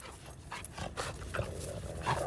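XL bully dogs pant and scuffle close by while playing tug of war with a toy, with steady rough breathing and short bursts of movement throughout.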